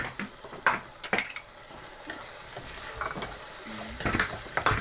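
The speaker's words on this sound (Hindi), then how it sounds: "अब हम इसमें टमाटर डालेंगे और हरी मिर्ची डालेंगे" Clinks and scraping of a spoon stirring in a pan as tomatoes and green chilies go in for a dhaba-style egg curry, with faint sizzling underneath and irregular metallic taps close by.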